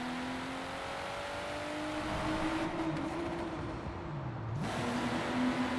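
A BMW M4 tuned to 750 horsepower in Forza Horizon 4 holds a loud, steady engine drone that climbs and dips through gear shifts during a top-speed run, with a brief lift near the end before the roar resumes.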